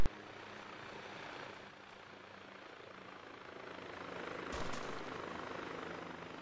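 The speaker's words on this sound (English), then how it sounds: "there's a chopper flying with a red Dodge underneath it" A helicopter flies overhead in a video game, carrying a red Dodge slung underneath; its rotor makes a steady, fairly faint whooshing drone that swells slightly toward the end.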